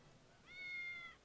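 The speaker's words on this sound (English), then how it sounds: "Hear a lot of meowing." A cat meows in a video game, one drawn-out, tonal meow rising and falling over about half a second, fairly faint against a quiet background with no talking.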